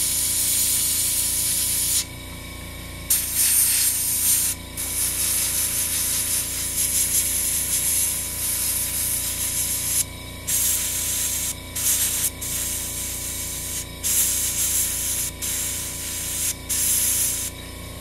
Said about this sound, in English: This is the last of the airbrush steps that I use.